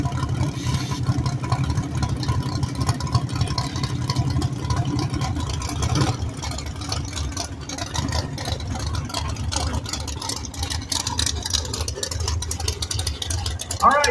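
The 638 cubic inch big block V8 in a 1973 Chevy Nova, an alcohol-fuelled drag car, idles with a steady low rumble throughout. People talk over the engine.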